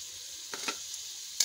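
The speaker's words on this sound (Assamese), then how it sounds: "এয়া মই আলু দিছোঁ আলু দিও অলপ ভাজো" Potatoes fry in a pan for chicken curry with a faint, steady sizzle, broken by a few soft scrapes of stirring.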